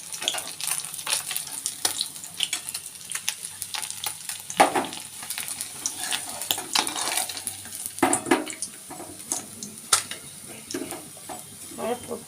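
Fish frying in hot oil in a home kitchen, a steady close crackle with sharper spits and pops scattered throughout, plus occasional clinks of utensils against the pan.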